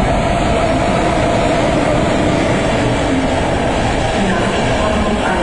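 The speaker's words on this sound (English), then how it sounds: "Here's the Czech train" A loud, constant roar of a moving Czech train between Berlin and Hamburg, a dense rushing rumble that holds steady throughout with no clear breaks.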